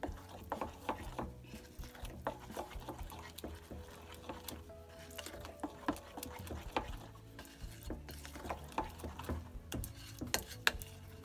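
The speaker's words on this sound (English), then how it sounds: "So just mix it." Butter and salt being mixed by hand in a bowl, giving repeated scraping and clicking strokes in an uneven rhythm, close and fairly quiet, with no voices.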